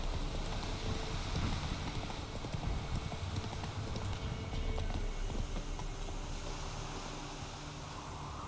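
Roach, the horse in the video game The Witcher 3: Wild Hunt, rears onto its back legs; steady, rhythmic clip-clop of hooves runs throughout at moderate volume with no voices.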